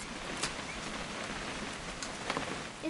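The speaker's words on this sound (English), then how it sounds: "It's gonna rain" Steady rain from the video game What Remains of Edith Finch, a dense even patter with a few louder drops landing nearby, continuous throughout with no voices.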